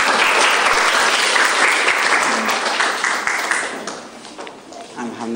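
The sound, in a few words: classroom applause after group presentation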